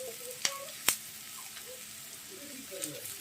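Capsicum frying in a hot pan for Hakka noodles gives a steady soft sizzle with a couple of sharp pops and clicks, while someone talks over it.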